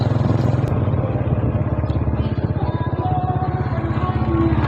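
A motorbike carries a family of riders, its engine putting out a loud, close, rhythmic putter that holds steady throughout, with a faint clatter in places.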